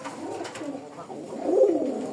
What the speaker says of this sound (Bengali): আমি নরের ডাকটা একটু দেখাই দেই